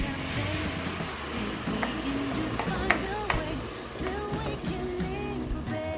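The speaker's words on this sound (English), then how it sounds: "fry it for 1 minute, and we'll go ahead to add all the tomatoes, everything that we have blended." Blended tomatoes sizzling and frying in a hot pan, a steady crackle with scattered pops and stirring clinks, moderately loud throughout.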